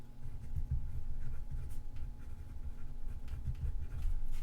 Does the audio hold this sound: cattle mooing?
no